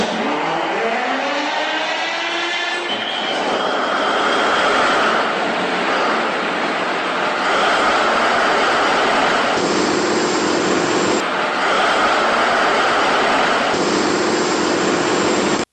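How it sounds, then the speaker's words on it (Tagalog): A 1,500 kVA CAT generator set starts with a rising whine and settles into a loud, steady roar, running continuously without pause and with no talking over it. "Start natin ang generator."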